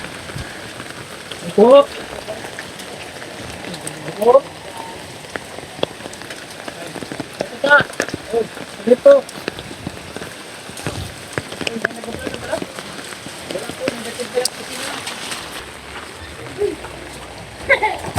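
Rain falls steadily outdoors as a family group moves about on an outing, a continuous wash of patter running under frequent close talk and calls among several people.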